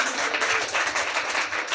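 A crowd at a Telugu Christian sermon claps loudly for the whole brief moment, dense continuous applause with no voices over it.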